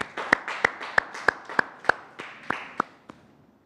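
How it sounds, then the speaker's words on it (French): A small studio audience on a French television show set claps in a sparse, fading rhythm of about ten distinct sharp claps, fairly close, with no talking over it. "On applaudit pour elles."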